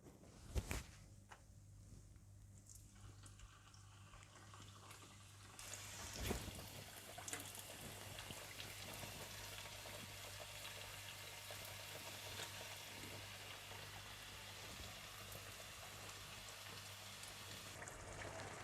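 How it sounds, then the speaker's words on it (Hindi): Chicken potli samosas deep frying in hot oil, a steady soft sizzle and crackle that swells after a few seconds and holds evenly, fairly quiet and alone. "इसके बाद आप तेल गरम करें और इन्हें डीप फ्राई कर लें।"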